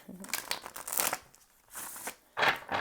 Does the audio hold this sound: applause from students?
no